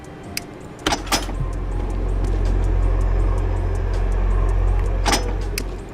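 Car lift lowering a car in the Car Mechanic Simulator 2014 video game: a steady, loud low motor hum that runs for several seconds, bracketed by brief metallic clanks near the start and end, with no talk.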